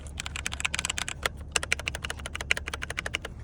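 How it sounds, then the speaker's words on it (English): Fast, steady typing on a HyperX mechanical keyboard with turquoise keycaps and brown-style switches, a dense run of close, crisp key clicks over a low hum. "They sound pretty good. I'm not gonna lie. They sound like brown switches."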